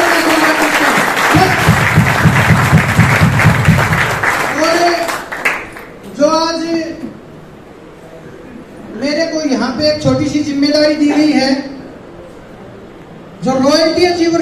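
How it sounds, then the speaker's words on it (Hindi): A seminar audience in Dadri applauds in honour of Gurudev, loud, dense clapping for about four seconds, followed by someone talking over a microphone in a reverberant hall, with later bursts of speech. "तो एक बार गुरुदेव के सम्मान में सभी साथी तालियों के साथ"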